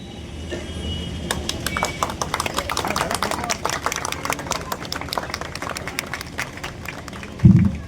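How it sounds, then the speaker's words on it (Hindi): Continuous applause from a large crowd at a statue unveiling: many hands clapping together, dense and steady throughout, with a brief thump near the end. "हम सभी की तालियों की गूंज आज रुकनी नहीं चाहिए"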